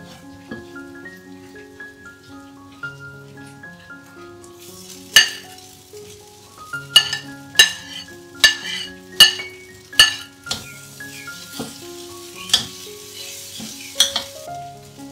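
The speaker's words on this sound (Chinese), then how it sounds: "倒入素肉末、素鱼饼和草菇，" Vegetarian mince, vegetarian fish cake and straw mushrooms being stir-fried for Southeast Asian otak-otak, with a spatula scraping and clinking sharply against the wok over a low, steady background, the strikes coming in a loose, irregular rhythm.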